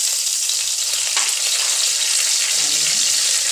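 Mustard seeds, cumin, curry leaves and chili hit hot oil and sizzle in a steady close hiss, with a short burst of popping and spattering near the end.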